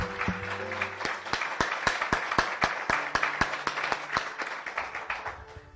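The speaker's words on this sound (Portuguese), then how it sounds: "Vamos dar uma salva de palmas mais uma vez para o nosso Deus" A church congregation claps together in a sustained round of applause, sharp individual claps standing out in a steady rhythm over several seconds, with faint low tones underneath.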